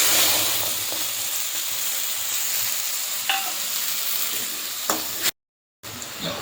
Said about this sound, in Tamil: ஆனியனை ஃப்ரை பண்ணிக்குவோம்